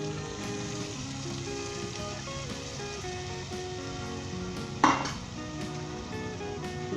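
Whisked yogurt poured into sizzling chicken qorma in a pot and stirred, a steady frying hiss with one brief clatter partway through.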